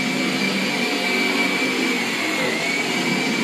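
A Gtech AirRam MK2 vacuum cleaner runs on carpet with a loud, steady motor whine and a constant airy rush, close by and without pause.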